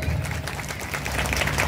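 An audience at a student gathering at a gurukulam claps in a steady, fairly loud wash of applause, brief and continuous with no pauses.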